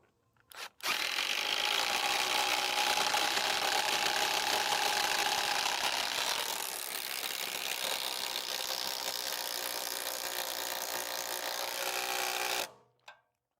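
Power tool driving bolts down through the feet of a used Wood-Mizer LX sawmill into 6x6 timber, a loud continuous whirring run of about twelve seconds, steady with a slight drop in pitch midway.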